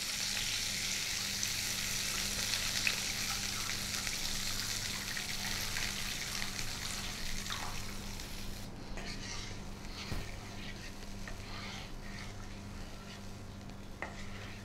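Cumin powder, salt and other ground spices being stirred with water for a Bengali hilsa curry, a watery swishing that is busier at first and then grows quieter and sparser.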